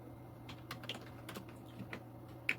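Someone types on a computer keyboard while writing a MySQL query, producing a few soft, scattered key clicks over a faint steady hum, quiet and close with no talking.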